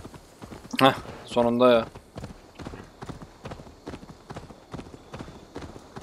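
A horse gallops with steady, rhythmic hoofbeats in Assassin's Creed Valhalla, moderately loud and continuing throughout; someone briefly speaks over the opening hooves.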